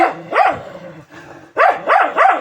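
A dog barks nearby in a series of loud, sharp barks: two quick ones, a short pause, then three more in fairly even rhythm.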